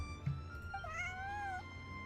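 A house cat gives a single drawn-out meow with a rising then falling pitch, close and fairly clear over a faint steady background hum.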